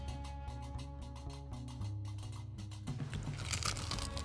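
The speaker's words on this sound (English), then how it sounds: "Unasikia file ni crunchy." Cooked chicken feet in a wet fry being chewed close up, a steady run of crisp, crunchy bites and bone-cracking chews, loud and alone with no talk.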